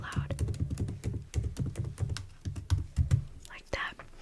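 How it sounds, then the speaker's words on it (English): Fingers with long nails type steadily on a keyboard, a close, quiet run of rapid clicky taps and thunks, while a soft whispering voice murmurs underneath. "so you guys can hear while I'm typing"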